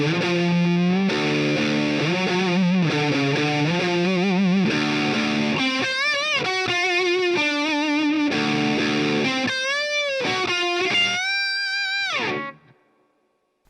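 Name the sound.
distorted electric guitar riff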